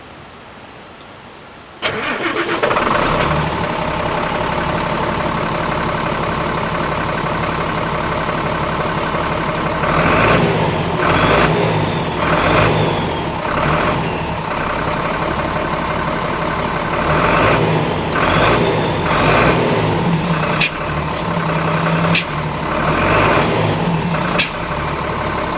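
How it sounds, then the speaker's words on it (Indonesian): Sinar Jaya Skylander R25 coach bus engine cranks and catches after about two seconds, then runs at a steady loud idle with a constant drone, with brief air-hiss and clattering bursts recurring throughout, no talking. "Nanti kita akan coba lihat bagaimana mesinnya ketika nyala dan kita dengar suaranya seperti apa."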